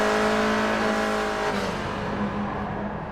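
Race car engine in GT Sport, heard through Graham Hill Bend toward McLaren at Brands Hatch, holding a loud, steady high-pitched drone, the tone easing slightly partway through and continuing strongly to the end.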